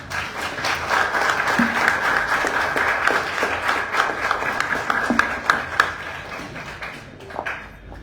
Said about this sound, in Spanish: Yo pido un aplauso por todas ustedes.